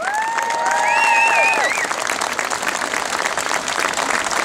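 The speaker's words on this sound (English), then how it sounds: "Let's have a round of applause for Lucian." Applause from a gathered audience at a public event about the Jolicoeur war memorial, steady crowd clapping with a few whistles and cheers rising over it early on, then settling into an even patter.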